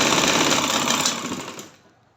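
Sewing machine running a seam along the sleeve of a baby girl's garara, a close, steady whirr of fast stitching that slows and fades out at the end, no talking.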